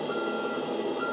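Reversing warning beeps from the sound module of a large custom 10x10 RC truck pulling a hydraulic log crane trailer, a steady repeating electronic tone heard up close with no talking.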